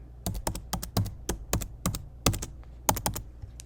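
Keys on a computer keyboard are tapped in quick, uneven bursts of sharp clicks as a wallet password goes in, up close and clear, with no voices.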